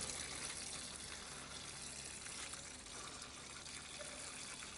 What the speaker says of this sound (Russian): спокойно наливаем себе разбавитель и работаем